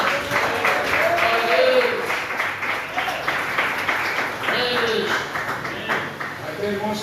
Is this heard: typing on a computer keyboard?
no